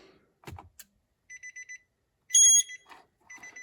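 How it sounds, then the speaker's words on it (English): A short electronic beep sequence from an Engine Guard overheating alarm in a Nissan Armada: a few quick tones, then a louder sustained chime-like beep, then more quick beeps, with faint clicks between. "We heard the beep."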